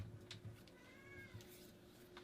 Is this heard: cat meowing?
yes